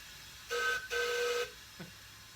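Two steady toots from an Allen Mogul model locomotive whistle running on air, about half a second each with a short gap, fairly loud and clear against a low background hiss.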